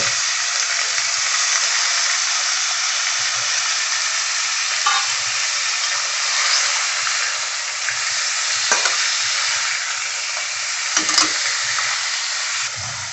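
Mutton pieces fry in hot oil in a pan for mutton chops, giving a steady loud sizzle and hiss with occasional stirring and scraping sounds, close up and without talk.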